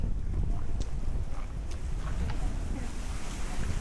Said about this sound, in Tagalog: Grabe na to, mahangin oh.